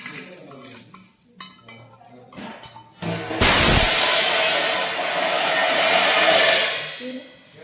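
Utensils scrape and clink against a plate as fried chicken is mixed with mayonnaise for a chicken mayo sandwich, first in scattered light taps, then a long loud stretch of continuous scraping and stirring close up.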